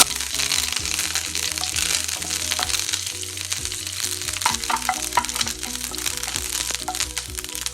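Dried red chillies and a generous handful of curry leaves fry in hot oil in a pan on low flame for a Kerala-style fish curry, giving a dense, continuous crackle and sizzle with sharp pops throughout.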